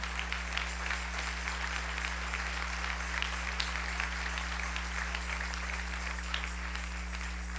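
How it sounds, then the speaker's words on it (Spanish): Church congregation applauding for the Lord during a Spanish-language sermon, a steady dense wash of many hands clapping at moderate distance over a constant low electrical hum, no voices standing out. "Dele un aplauso al Señor."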